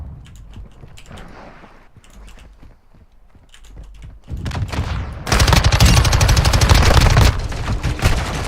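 Video game gunfire: sparse shots and clicks build into dense, loud, sustained automatic fire over the final seconds, with no voices.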